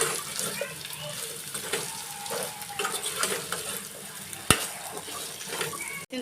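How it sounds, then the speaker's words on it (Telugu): Jackfruit seeds frying in a pan with ginger garlic paste give a steady close sizzle, broken by spatula stirring and scraping, with one sharp clank of metal near the end. "అల్లం వెల్లుల్లి పేస్ట్ కూడా వేగింది నెక్స్ట్ పనసగింజలు వేసుకున్నామండి"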